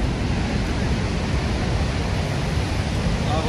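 Niagara Falls roars with loud, dense rushing water, a constant wide wash of noise that stays even and close from start to finish.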